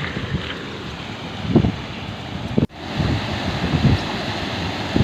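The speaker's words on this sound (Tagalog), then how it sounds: "Malakas na uli ang agos." Strong current of the Thurba River rushing steadily in a broadband roar, with gusts of wind buffeting the microphone and a sharp dropout partway through.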